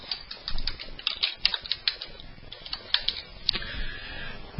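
Rapid keyboard typing of a name at a computer, a quick irregular run of close, crisp clicks with small pauses, no voices.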